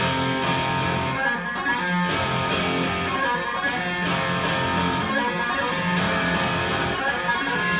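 A fast electric guitar tapping lick with a bright, overdriven tone, rapid repeating notes running continuously with sharp attacks, no voices.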